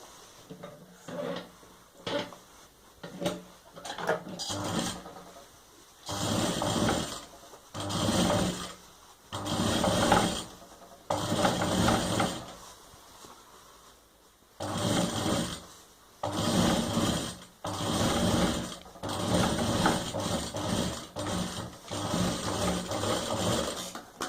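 A sewing machine stitches cloth for a diaper bag in repeated bursts of rapid whirring, each lasting a few seconds, with short pauses and small handling clicks in between.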